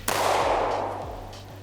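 A single loud, close gunshot from a CZ SP-01 handgun, a sharp crack followed by a long echoing decay.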